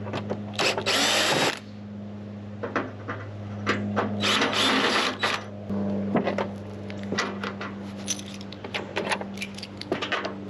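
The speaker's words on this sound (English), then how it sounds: "So I'm going to remove those real quick with the drill." Power drill backing screws out of a plastic RV air conditioner shroud on a cargo trailer camper conversion, with short loud whirring bursts separated by a steady mechanical hum, plus clicks and handling knocks between runs.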